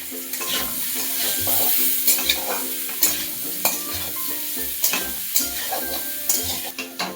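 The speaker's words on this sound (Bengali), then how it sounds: "আলুটাকে হালকা লাল করে ভাজা হবে" Potatoes sizzle as they fry in hot oil in a pan, with repeated scraping and stirring clatters from a utensil, close and steady throughout.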